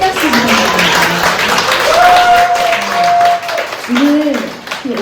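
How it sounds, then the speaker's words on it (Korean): An audience applauds a lecturer after a health talk at a community talk concert, steady clapping filling the room while voices carry over and through it. "김주환 원장님께 다시 한번 큰 박수 부탁드립니다"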